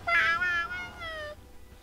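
A single drawn-out cat meow, bright and close, falling in pitch over about a second, from the kitty trap card in the video game Lost Kingdoms.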